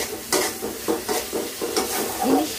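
Taro leaves frying with a hilsa fish head in a pan, stirred in a steady rhythm: close, repeated scraping strokes over a continuous sizzle.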